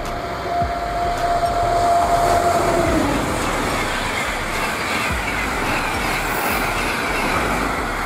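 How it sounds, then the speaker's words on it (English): An Italo high-speed train runs steadily with a broad, smooth rumble and hiss throughout, a faint tonal whine fading out early on. "Italo is Italy's private high speed operator, known for quiet cabins, energy efficient motors"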